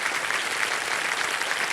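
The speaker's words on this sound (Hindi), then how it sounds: "जोरदार तालियां" A studio audience on a televised quiz show breaks into sustained, dense clapping, steady and full throughout without a pause.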